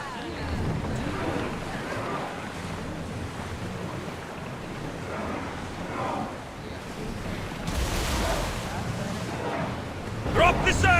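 A sailing ship crosses open sea in Assassin's Creed, with continuous surf, rolling waves and wind rushing against the hull, a steady loud wash that swells briefly near the end; no one talks.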